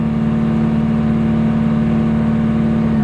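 A 2001 Mitsubishi Lancer Evolution 7 GSR (CT9A) engine held at a steady raised idle, a loud, close, constant hum with no misses or surges, running alone without voices.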